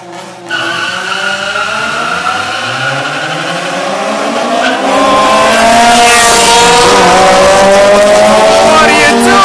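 Honda Civic Si cars street racing roar off the line very loudly, engines revving up in a rising whine that builds to a close, intense scream, with excited shouting mixed in.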